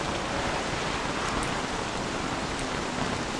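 Steady rain falling in Don't Starve, a constant broad hiss of downpour that holds evenly throughout with no breaks, close and enveloping, with no voices.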